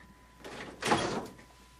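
A single door opens with a soft, brief whoosh and creak that swells and fades within about a second, heard alone and fairly quiet as a sound effect in a Korean audiobook of a Balzac story.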